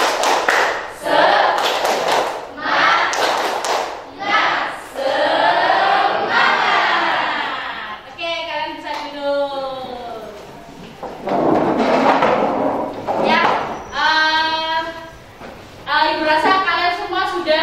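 A group of children clap and chant together in rhythmic bursts, loud and close, with pauses between the patterns.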